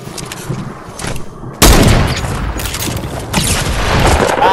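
Gunfire in a shooting video game, a sudden loud burst of booming shots followed by continued rapid firing and rumble.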